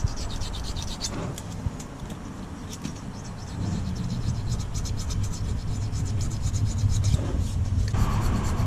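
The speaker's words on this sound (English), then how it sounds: "I'm just going to take this blade out of my knife. Let's go around these gasket faces." A knife blade scrapes around the gasket faces of a fully blocked EGR valve from a DAF LF truck, making steady, close rasping strokes that grow slightly louder partway through.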